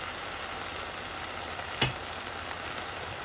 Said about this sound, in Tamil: ஒரு சத எண்ணெயில் எல்லாத்தையும் சாதுவாக வதக்குவோம்